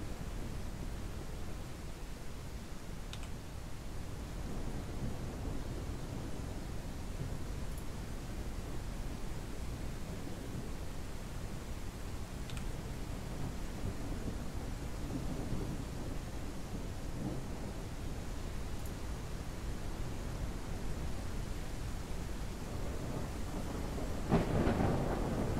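A rain-heavy thunderstorm in the farming video game Ranch Simulator, a steady broadband roar of downpour with faint distant rumbles, continuous and even throughout with no talking.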